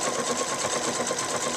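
Pfaff Expression 4.0 sewing machine quilting fabric, a steady, fast, continuous stitching whir held at an even level throughout, close and alone with no talk.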